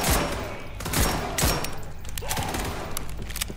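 Gunfire in the wave-defense shooter SCP 5K: several heavy shots ring out in quick volleys, close and loud, over a busy rumbling battle.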